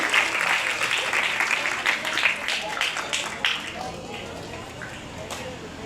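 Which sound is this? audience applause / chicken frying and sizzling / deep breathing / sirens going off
audience applause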